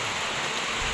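Heavy rain pours down in wet weather during a coconut and frond harvest, a steady, dense hiss filling one short second without any voices.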